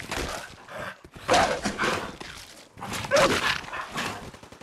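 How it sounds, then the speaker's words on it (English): A dog in Fallout 4 barks loudly and close in two sharp bursts, each a rough volley of barks with a brief pause between. "The dog is so loud."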